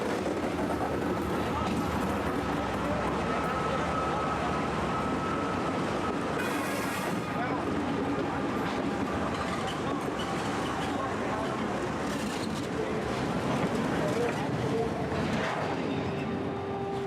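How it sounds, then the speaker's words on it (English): A freight train carrying migrants rolls along at night, a loud, continuous rumble and rattle of wagons with clattering wheels and occasional metallic squeals, while people talk over it. "The train is soon going to accelerate."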